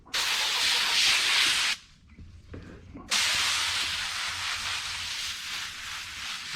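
A hose sprayer set to mist hisses steadily as it wets newspaper, a soft, close spray that cuts out briefly midway and then resumes.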